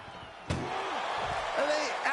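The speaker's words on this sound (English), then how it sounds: "Look at the struggle just to shut that first door." A heavy ambulance rear door slams shut once during a WWE ambulance match featuring Roman Reigns, Brock Lesnar, John Cena and Goldberg: a loud, sharp bang under continuous commentators' talk and crowd noise.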